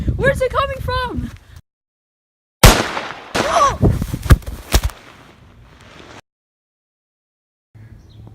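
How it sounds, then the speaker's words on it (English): Sharp cracks and short bursts of gunfire ring out in a tense troops-under-fire scene, with bright sudden onsets and ringing tails. Voices are heard shouting before and among the shots, and there are silent gaps between. "Where are the shots coming from?"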